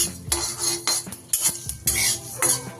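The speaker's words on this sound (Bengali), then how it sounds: "খুব সুন্দর করে এটা কড়াই নেড়ে নিয়ে তারপরে গুঁড়ো করে নেব" A spatula scrapes and knocks against a kadai while whole garam masala (cardamom, cloves and a little cinnamon) is dry-stirred, with a series of sharp metallic clinks and scrapes in an irregular rhythm, close and fairly loud.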